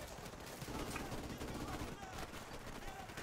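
Rapid automatic fire from an M16A4 rifle fitted with a grenade launcher in Call of Duty: Modern Warfare Remastered, a dense stream of close, loud shots running continuously with some game sounds mixed in.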